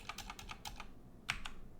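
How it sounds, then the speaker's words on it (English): Quiet typing on a computer keyboard, a quick run of soft key clicks followed by a brief pause and two sharper taps, close but faint, without speech. "if I start typing"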